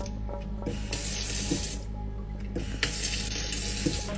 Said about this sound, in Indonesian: keran tiba-tiba menyala